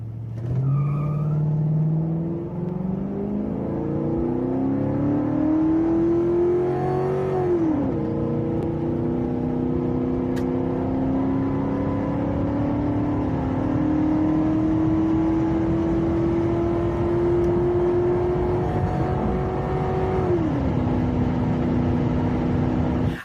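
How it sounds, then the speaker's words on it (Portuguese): A Ford Crown Victoria police car's V8 engine revs up steadily through the gears, its pitch climbing, dropping at each shift, then climbing again, loud and close throughout. "Inclusive a aceleração dele é muito boa, mesmo sendo aquela banheirona, né? Ele tem um V8 ali e puxa muito bem."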